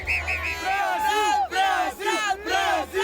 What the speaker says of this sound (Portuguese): Antes do jogo, a torcida brasileira no Catar já estava preparada.